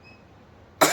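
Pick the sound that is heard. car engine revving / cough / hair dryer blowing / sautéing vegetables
cough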